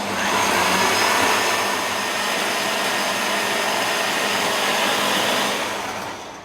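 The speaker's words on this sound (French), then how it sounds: "on ferme et puis on met à mixer gentiment" A blender mixes a flour batter for crisp date-molasses flatbreads. Its motor gives a loud, steady whirring roar that holds for several seconds and then winds down, with no voices.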